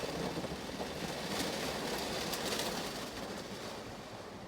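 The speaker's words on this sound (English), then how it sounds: "it is pouring" Heavy rain pouring down at a gas station, a steady dense hiss that stays constant and fairly loud throughout.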